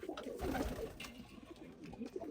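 Lahori and Silver Sirazi pigeons coo in soft, throaty, rolling calls, close and continuous with no talk.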